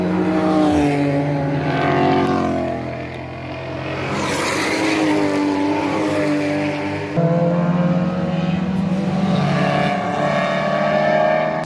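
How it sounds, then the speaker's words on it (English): Race cars on the Nordschleife at Hohe Acht roar past one after another, loud engines rising and falling in pitch as each accelerates through, with a brief lull midway before the next cars arrive. "Oh, you want to see race cars, okay."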